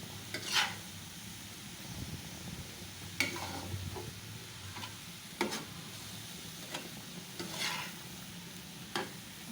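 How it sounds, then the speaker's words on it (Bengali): Bathua greens stir-fried with shrimp and spices, a quiet steady sizzle broken by several sharp scrapes and taps of a spatula on the pan, spaced a couple of seconds apart. "শাকগুলোর সাথে সব মশলা নেড়ে চেড়ে লাগিয়ে এলাম"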